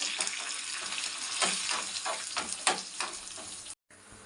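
Tempering spices crackle and sizzle in hot oil for drumstick dal sambar, a close, steady frying hiss with pops and bursts that cuts off abruptly near the end.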